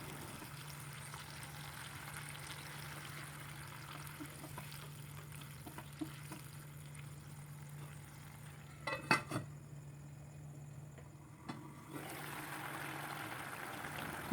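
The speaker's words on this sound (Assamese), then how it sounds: "এতিয়া পানী অলপ বেছিকৈ দি সিজাই ল'ম।" Broiler chicken and kenaf leaves simmer in water in a covered pot for a Bodo-style dish, a faint, steady low bubbling hiss with a few brief clinks midway.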